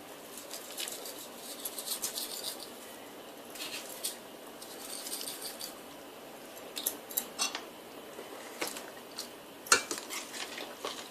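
A spoon stirs Indian tamarind sauce with vegetables in a pot, giving soft scraping and wet patter with scattered light clinks against the metal, quiet and close, with no voices.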